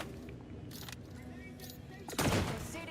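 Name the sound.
bio grenade thrown in The Outer Worlds 2 video game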